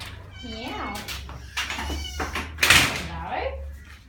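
Stray cats in a shelter quarantine room meowing and crying loudly, several drawn-out calls with a door clunk in between, close by under a steady low hum.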